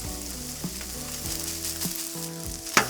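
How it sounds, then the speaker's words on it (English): Rice frying on a flat griddle for jambalaya, a steady close sizzle with a few scraping stirs and a sharp clink of a utensil near the end. "we're just going to sort of fry it up like a stir fry"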